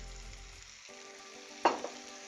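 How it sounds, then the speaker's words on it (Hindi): Chicken pieces hit hot oil with golden-brown fried onions, setting off a sharp burst of sizzling that swells over a steady low frying hiss, then settles back; no one talks. "जब ये गोल्डन ब्राउन प्याज हो गए हैं तो हम इसमें अपना सारा चिकन डाल देंगे"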